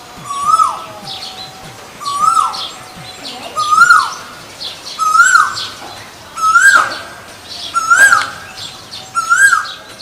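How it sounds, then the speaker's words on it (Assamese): An Asian koel, a cuckoo, calls from a tree branch in spring, repeating its rising whistled note about every one and a half seconds. The calls are clear and fairly close, with other birds chirping faintly behind them. "গছৰ ডালত বহি কুকু মাতেৰে দিছে বিহুৰ জাননী।"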